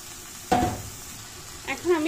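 Eggplant pieces dropped into hot, fried spice masala, bursting into a sudden loud sizzle that quickly fades into quieter frying, with a short stirring scrape and a brief voice near the end.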